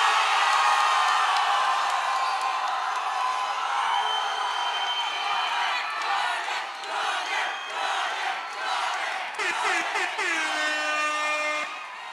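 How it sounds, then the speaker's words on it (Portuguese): A rap battle crowd at the Amazonas state final semifinal of Duelo Nacional 2023 roars and cheers continuously, with whoops, shouts and blasts from air horns layered over the dense, loud noise. "Quem gostou da rima do Jones faz barulho"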